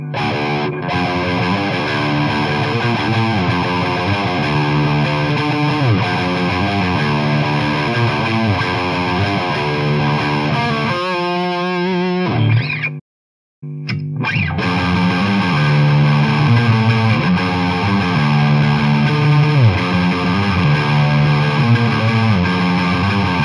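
Electric guitar through a humbucker pickup played with heavy distortion, dense chords and riffs ringing loud and continuous, broken by one brief sharp stop near the middle before playing resumes.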